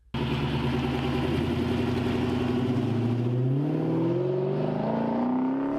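A 2006 Chrysler 300C SRT8 sedan's engine revs up from a rumble into a rising, loud roar, close and continuous for several seconds with no voices.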